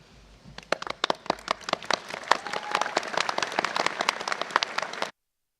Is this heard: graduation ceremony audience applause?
yes